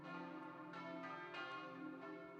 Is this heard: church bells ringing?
yes